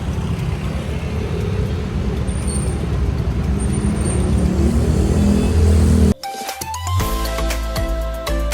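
A jeepney rolls through dense city traffic in Tondo, Manila, its engine rumbling loud and close with steady road noise, then a sudden cut leaves a quieter stretch of idling and hum before the drone picks up again.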